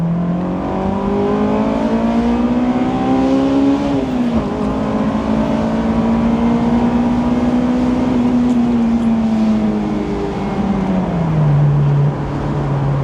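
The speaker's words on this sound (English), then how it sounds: "let me go ahead and downshift for you guys. We'll do a little bit of, we'll hit VTEC a little bit" A Honda engine with a 9,000 rpm redline revs hard on a downshift into VTEC, a loud, continuous high-pitched wail that climbs, dips briefly, rises again and then drops, close up with no talk.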